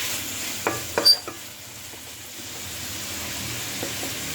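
Ginisang munggo cooking with a steady, quiet sizzle throughout, broken early by a few clattering stirs of a utensil against the pan.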